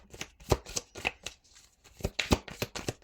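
Tarot cards shuffled by hand, a quick series of crisp riffling and slapping bursts in an irregular rhythm, close and clear.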